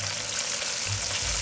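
A chicken thigh shallow-fries in hot oil, making a close, steady sizzle and crackle with a low bubbling undertone, brief and heard without talk.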